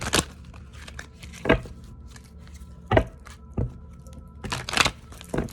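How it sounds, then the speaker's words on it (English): Tarot cards shuffled by hand in a quiet room, giving a few sharp riffling snaps spaced a second or more apart with soft rustling between, close and moderately quiet. "Spirit's telling me to shuffle this deck"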